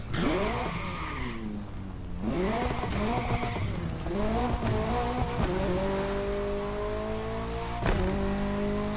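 A turbocharged car engine in The Crew Motorfest racing game revs loud and up close, rising through repeated climbs with gear shifts and faint tire squeal, and no talk over it.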